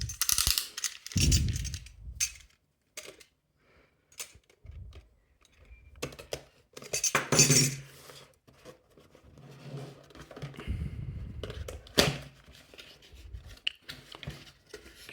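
Cardboard and packaging being handled while a Nola kitchen burner, German made, is unboxed: close, irregular rustles, crinkles, taps and scrapes in uneven bursts, with quiet gaps between.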